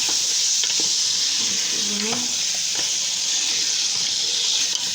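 Boiled peas tipped into half-cooked rice for aloo matar pulao, giving a steady, loud sizzle with stirring scrapes and soft splashes throughout, close by and without talk.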